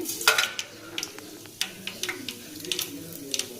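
Mustard seeds and cumin hit hot oil, giving a soft sizzle with scattered crackles and pops at irregular intervals, plus a few light clinks of a utensil against the pan.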